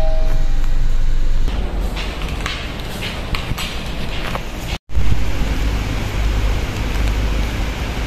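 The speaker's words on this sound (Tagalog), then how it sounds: "And lumakas yung ulan." Heavy rain and strong wind lash a Hong Kong street market during a typhoon, producing a constant loud roar with gusty rumble and wind buffeting the microphone, briefly cut off before resuming.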